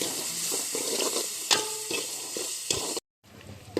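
Onions and tomatoes fry in a pan while a spoon stirs them, giving a steady close sizzle with scraping strokes and a few clinks before a brief silence.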